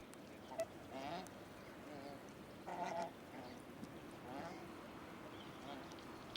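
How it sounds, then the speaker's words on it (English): Mute swans gathered in winter on open water of the Sava river give soft honking and trumpeting calls, distant and intermittent over a faint ambient background. "Mute swans, the largest waterfowl in Europe, get social during the winter."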